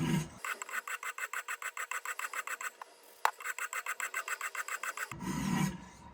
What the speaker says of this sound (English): We're going to do 19 or do 30 passes on this side as well.